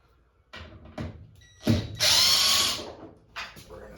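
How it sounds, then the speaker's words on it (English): Short bursts of a power tool whirring and ratcheting while removing parts of a front-load washer door gasket, with brief pauses and rising whine between bursts. "You obviously don't need a power tool to do this"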